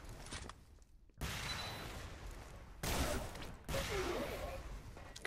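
Repeated explosive bursts in the Xonotic arena shooter during a duel match, three loud blasts each trailing into a noisy rumble, with a quieter shot at the start.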